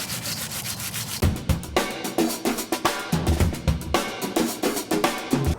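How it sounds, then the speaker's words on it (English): Steady rustling and rhythmic shaking of dry garden seeds being winnowed by hand for saving, a close, coarse rasping that repeats in quick bursts with no voices. "winnowing out some of the seeds here to save."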